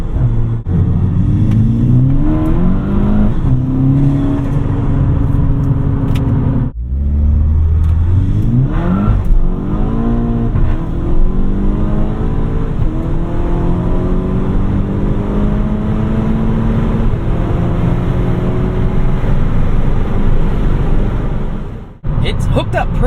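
A Mk6 VW GTI with Stage 2 Unitronic tuning, a K04 turbo, CTS intake and downpipe and a DSG gearbox launches hard off the line on street tires. The engine revs up loudly in rising sweeps through quick gear changes over about twenty seconds, up close.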